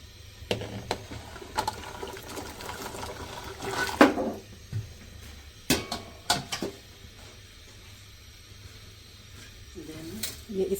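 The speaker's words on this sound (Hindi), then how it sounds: "जब हम इसमें आलू डालेंगे ना तो इस पानी का टेम्परेचर ख़ुद नीचे आ जाएगा" Raw potato pieces drop into a pot of hot water for homemade fries, giving a few sharp splashes and clatters, then quiet bubbling and stirring scrapes over several seconds.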